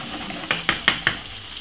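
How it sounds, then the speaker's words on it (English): Chopped tomato, white onion and spring onion fry in a pan under a continuous sizzle, with four quick spatula scrapes and taps in a steady row, close up and without talk. "I cut it up very small. So I'm gonna just fry up this roughly about a nice good 3 to 4 minutes."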